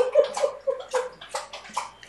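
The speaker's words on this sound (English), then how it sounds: "pause it so that my dog can get a freaking drink of water" A dog laps water rapidly, a quick run of wet splashy slurps in an even rhythm, close and fairly loud with no talking.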